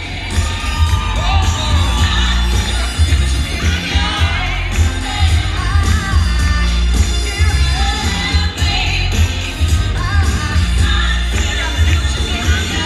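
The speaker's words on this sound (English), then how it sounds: "Give another round of applause for Lindsay and Alex, everyone." A large wedding reception crowd applauds and cheers loudly and steadily, with whoops and shouts rising over continuous clapping throughout.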